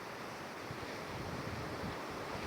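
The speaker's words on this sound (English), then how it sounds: "There's a bit of wind up here, it's a very warm wind today." A warm wind blows at a seaside camping ground above the sea, a steady broadband rush with microphone buffeting and surf in the background, and no voices.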